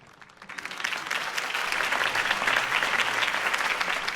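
Crowd applause following a campaign speech in Batman: The Telltale Series, swelling quickly from quiet into sustained loud clapping that holds steady to the end, with no talk over it.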